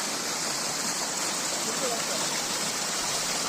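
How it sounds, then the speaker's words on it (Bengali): A stream of water flows steadily through a rocky channel at Dauri Nala in Purulia, making a constant, dense rushing sound close by with no clear breaks. "এই যে জল এখান দিয়ে বইছে"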